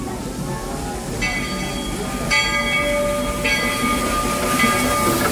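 The Magic Kingdom railroad train at Walt Disney World rolls past close by with a steady rumble and tonal squeals, under faint crowd murmur.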